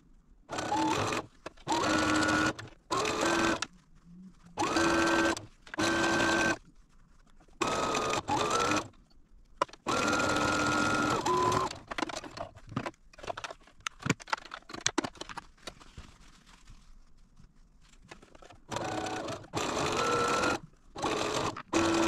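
Domestic sewing machine stitching the seams of a beginner sampler quilt block, running in short whirring bursts separated by pauses and fabric handling, fairly quiet, no talk.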